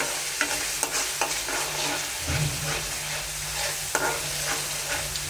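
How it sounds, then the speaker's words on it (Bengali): Small shrimp being stirred and sautéed in a hot pan to start a curry, a steady close sizzle with scraping stir strokes and occasional clatter, no talk. "এখন আমি চিংড়ি মাছটি কষাইয়া এগুলা দিয়া রান্না করবো একটা তরকারি।"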